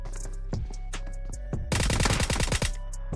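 Rapid bursts of VSS rifle fire in PUBG Mobile, a dense run of close, loud shots, with single reports before the burst and a steady game-ambience hum underneath.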